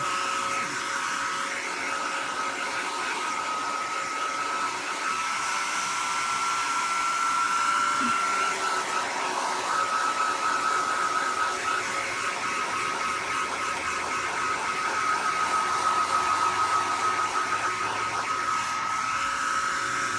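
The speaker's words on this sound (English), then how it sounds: "As long as you don't blow dry him in one spot for too long, you shouldn't have a problem." A hair dryer blows steadily and loudly on a wet, dirty kitten during a bath, a continuous whirring drone holding for the full twenty seconds.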